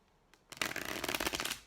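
A quick burst of tarot cards being riffled and shuffled, a soft flick then a dense papery flutter lasting about a second, close and fairly loud.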